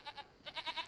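Two short goat bleats, then a quicker run of four, come from livestock on a farm in the Farming Simulator 25 video game, clear and fairly close.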